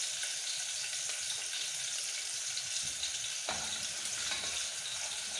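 Githeri cooks in a pot with a steady sizzling, bubbling hiss, with a few soft stirring scrapes close by and no one talking.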